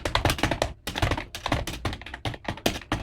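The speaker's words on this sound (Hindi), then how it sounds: "आवाज़ सुन सकते हैं कीबोर्ड की कितनी शानदार आ रही है" Fast keystrokes clatter on a computer keyboard during a typing-test run, dense, loud and close, with short breaks between flurries and no talking.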